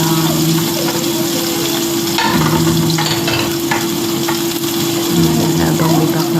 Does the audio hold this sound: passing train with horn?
no